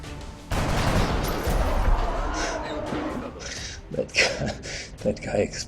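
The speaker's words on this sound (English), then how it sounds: "That guy exploded quite interestingly." An enemy blowing apart under gunfire in the XCOM video game, a loud burst of explosion and rattling fire that trails off into scattered crackles and pops, with someone talking over it.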